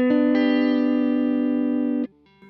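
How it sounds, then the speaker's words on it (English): A clean guitar tone through a Kemper Profiler amp profile with every effect switched off: a sustained chord ringing dry and steady for about two seconds, then a short, quieter note change at the end. "So I turn everything off and just listen to the amp sound, and it's just a clean sound"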